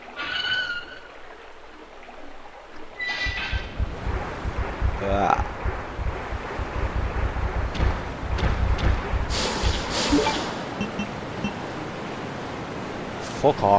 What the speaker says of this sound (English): Where's the waterfall? I can hear it.